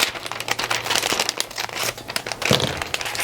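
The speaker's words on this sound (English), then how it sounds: "we're gonna cut a slit" Sublimation paper being cut for a slit, with close, continuous crinkly rustling and scraping, uneven little crackles and a sharper snip near the end, and no talking.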